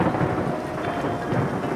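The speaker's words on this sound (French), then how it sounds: "Un orage phénoménal s'abat sur l'expédition." A phenomenal thunderstorm with hail breaks over the Nyiragongo volcano: a steady, loud roar of rain and hail hammering the surfaces, with low thunder rumbling underneath, and no voices.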